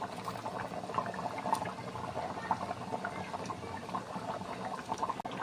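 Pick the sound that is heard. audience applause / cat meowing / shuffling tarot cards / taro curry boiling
taro curry boiling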